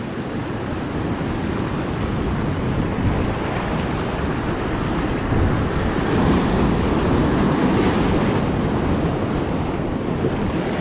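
Ocean surf breaking on the Brittany coast, a steady, loud, wash of churning waves with a fuller surge near the end, no voices.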